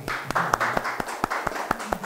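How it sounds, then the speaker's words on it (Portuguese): A small podcast audience claps in a round of applause, with distinct sharp hand claps coming at a fairly regular rhythm, close and moderately quiet. "para até uma salva de palmas aqui para gente"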